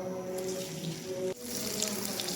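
Chopped onions sizzle in a cup of hot oil in a kadhai, giving a steady close hiss with a faint hum underneath.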